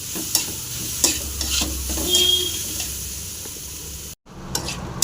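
Sliced bitter gourd frying in a pan, stirred with a utensil: a soft continuous sizzle with scraping strokes and light clinks, close and alone.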